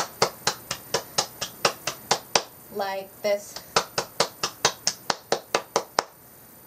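Steady rhythmic hand clapping for a Patriots cheer routine, about twenty sharp, close claps at an even tempo, briefly interrupted by someone speaking before the clapping resumes.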